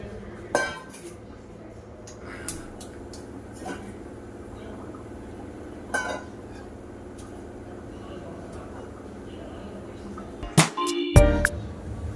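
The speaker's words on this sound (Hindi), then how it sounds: "अब चाय चढ़ा देती हूँ।" In a home kitchen, a pot clinks and knocks sporadically as tea is put on to boil, with scattered sharp metallic taps and a louder cluster of clatter near the end.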